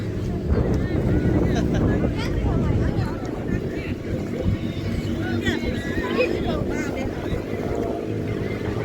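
A boat moves over sea water with a rumbling engine-and-wave churn, wind buffeting the microphone while several people talk nearby.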